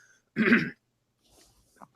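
A single short, gruff throat clearing up close, followed by a brief quiet rustle.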